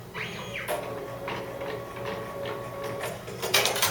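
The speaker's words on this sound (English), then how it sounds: "the machine moves over to that selected color and begins sewing" A Happy Journey embroidery machine starts sewing, with a steady mechanical whir and hum, quick rhythmic clicking of the needle mechanism, and a louder burst of clatter near the end, close by and alone.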